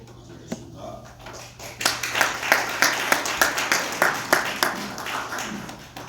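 An audience at a lecture on national dignity claps to welcome a speaker to the stage, starting with a few scattered claps, then building into steady, rhythmic applause that carries on to the end.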